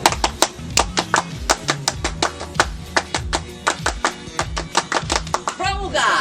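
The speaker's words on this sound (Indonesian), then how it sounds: "mungkin sebelum ditutup, baiknya kita 2 kali tepuk Pramuka" A group performs the rhythmic Pramuka scout clap, sharp patterned handclaps in quick repeated sequences, loud and close, with voices mixed in among the claps.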